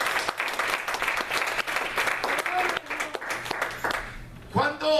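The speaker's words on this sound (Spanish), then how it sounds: "¿Cuánto dan un aplauso al Señor?" A church congregation claps for the Lord, dense rhythmic clapping filling most of the stretch before thinning out, with voices rising near the end.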